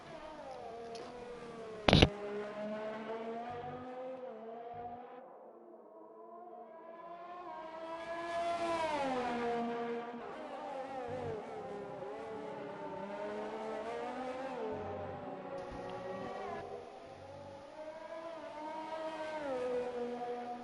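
A Formula 1 car in an F1 esports racing game, lapping the Chinese Grand Prix circuit: a steady high engine whine that climbs and falls in pitch through gear changes and corners, continuous and fairly close, with a sharp click near the start.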